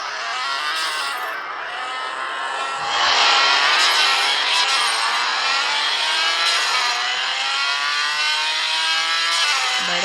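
A sports car speeds along in the Car Parking Multiplayer 2 game, its engine note climbing and holding a loud, steady high-revving whine throughout, with no talk over it.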